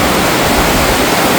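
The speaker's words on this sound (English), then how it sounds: "just before our arrival, like 2 minutes, and it's pouring down." Heavy rain pouring down on arrival during a motorcycle ride through Cameroon, Congo and Nigeria, a dense, loud, continuous hiss of falling water with no breaks or voices.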